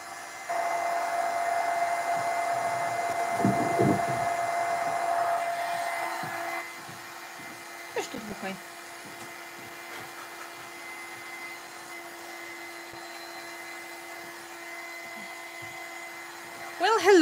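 A handheld hair dryer blows on a craft pumpkin during an altered-art project, giving a loud, steady whirring rush for about six seconds before it cuts off and leaves a quieter background hum.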